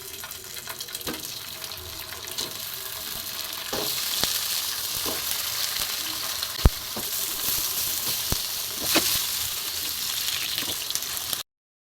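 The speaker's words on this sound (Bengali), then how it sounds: "এবার আমি আস্তে আস্তে সসেজগুলো দিয়ে দেবো।" Homemade chicken sausages fry in a little oil in a nonstick pan with a loud, steady, close sizzle and crackle. Occasional sharp taps of a spatula cut through before the sound stops abruptly.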